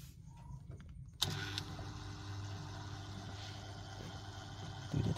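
A Samsung washing machine with a 1E error code starts up at about 1.2 seconds, a sudden onset followed by a steady motor hum and the sound of water being drawn in. A low whir persists under it, and a brief bump comes near the end.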